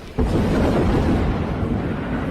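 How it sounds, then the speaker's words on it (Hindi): Deep thunder rumbles as dense clouds gather before a heavy storm: a sudden onset into a loud, continuous, broad roll with no speech. "ऐसा लगता था कि भारी बारिश और आंधी तूफान आने वाला है।"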